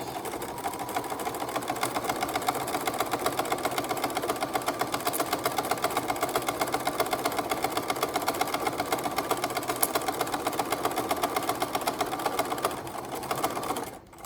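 A sewing machine stitches a regular straight seam at a half-inch mark with zero stitch width, a steady rapid close whirring that runs evenly throughout and stops at the end, with no voices.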